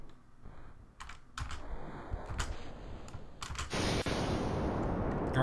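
Repeated keyboard key taps in irregular bursts while playing Kerbal Space Program, close and fairly clear, with a dense rushing rocket-engine roar swelling underneath toward the end.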